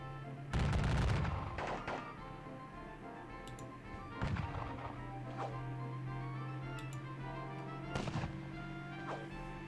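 Musket volleys in a Waterloo wargame: a loud burst of gunfire near the start, then further crackling shots around the middle and near the end over a steady low hum.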